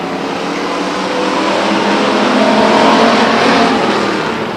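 Stock cars racing at Stockton 99 Speedway, a loud broadband engine roar from a pack of cars that swells toward its peak and then eases slightly, with no voices.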